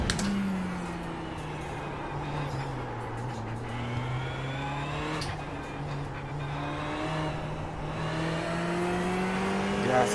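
A race car in a driving simulator revs and accelerates steadily, engine pitch rising and dipping through gear changes, loud and close, with a brief tire squeal and some speech mixed in.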